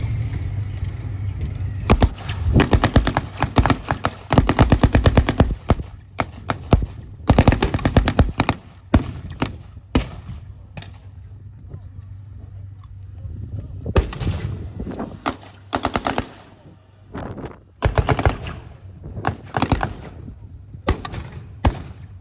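Gulf War battle reenactment with British anti-tank and reconnaissance units firing on the Iraqi side: loud, sustained machine-gun bursts and heavy gunfire crackle over a low rumble, nearly continuous with short pauses.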